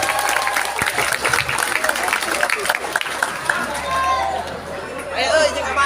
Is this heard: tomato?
no